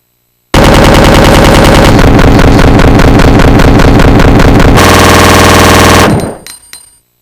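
The submachine gun in the video game Resident Evil 2 fires one loud, unbroken automatic burst lasting several seconds, its rapid shots blurring into a continuous roar before cutting off with a short fading tail.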